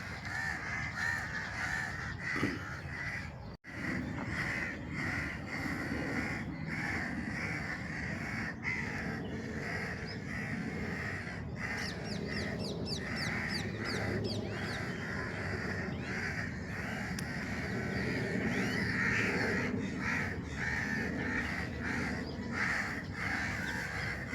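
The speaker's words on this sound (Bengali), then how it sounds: "আমি এখানে দাঁড়িয়ে আছি শুধু খালি পাখিদের গুনগুনছুটি শোনার জন্য" Crows cawing among other birds in Dubai Creek Park, repeated calls over a constant outdoor background hum, moderately distant and steady.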